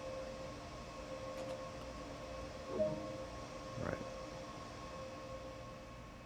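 A DB BR182 locomotive running in the Train Sim World video game, a faint steady rail hum with two brief clunks, and a voice speaks briefly.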